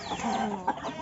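Free-range native village chickens cluck close by on a traditional farm in Java, a rooster's short, busy clucks running throughout with one brief louder call near the end.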